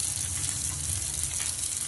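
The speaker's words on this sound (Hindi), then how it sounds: "घी डालने के बाद हम इसमें चॉप कैश्यू डालेंगे एंड चॉप आलमंड्स डालेंगे" Chopped cashews and almonds drop into hot ghee in a pan, giving a steady, dense sizzle that holds evenly throughout without any talking.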